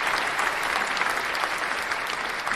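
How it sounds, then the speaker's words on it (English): An audience claps steadily at a live show, a dense, even wash of many hands that holds at the same loud level throughout with no voices on top. "When there's clapping going on,"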